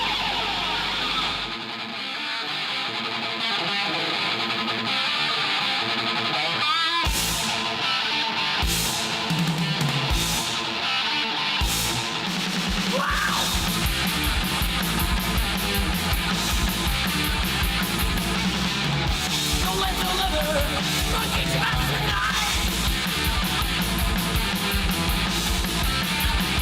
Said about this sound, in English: That's what it sounds like when four boys who haven't quite hit puberty yet play rock music.